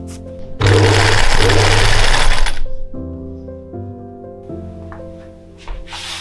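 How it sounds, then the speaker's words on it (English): A sewing machine runs loud and steady for about two seconds while stitching a gathered fabric sleeve, then slower whirring passes with pauses between them. "it's a lot easier to sew the gathering in place before closing the seams on the sleeve as well as on the cuff"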